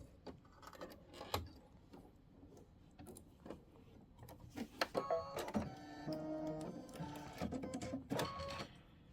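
A domestic sewing machine quilts a scallop border with cobalt thread, its needle running in short bursts and then a longer steady whirring stretch with mechanical clatter, close and moderately quiet.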